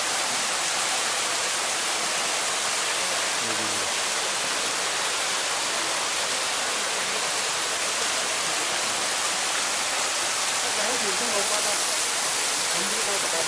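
A waterfall at Ko Luang or Tat Sado roars as a steady, loud, unbroken rush of falling water that holds level throughout.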